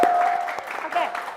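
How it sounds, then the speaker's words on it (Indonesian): Studio audience applause at an Indonesian talk show, a brief burst of clapping mixed with a sustained tone and a hint of voices, steady and moderately loud throughout. "Tepuk tangan dulu semuanya."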